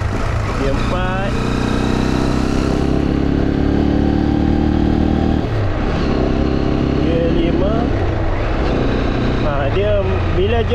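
A Sym VF3i motorcycle fitted with a 21T Espada primary gear runs steadily in a higher gear, a loud continuous engine drone with shifting pitch throughout, and a voice speaking over it at times.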